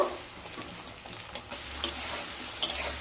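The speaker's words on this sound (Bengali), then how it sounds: "আলুগুলোকে হালকা ব্রাউন কালার করে ভেজে নেব।" Diced potatoes fry in hot oil, a soft continuous sizzle with a few brief sharp crackles and stirring clicks, close and moderate in volume with no talk.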